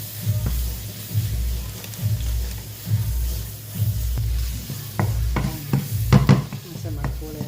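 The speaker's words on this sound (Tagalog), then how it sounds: "gusto kong yung pork ma-seared siya mabuti para lumabas yung sarili niyang taba" Pork in a pan with annatto, seared and stirred, gives a steady sizzle under repeated scraping and stirring strokes in a roughly regular rhythm, with sharper clinks near the end; close and fairly loud, with no talk.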